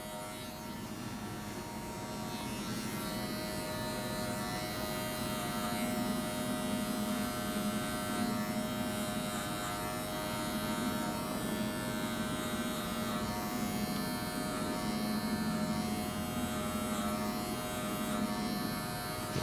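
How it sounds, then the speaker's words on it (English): An electric hair clipper buzzes steadily and close by, moving up the head to blend a gentlemen's combover haircut in a barbershop, with a continuous hum and no talking. "Notice how my clipper goes right up. It's not going right in, it's going right up to get that nice smooth blend."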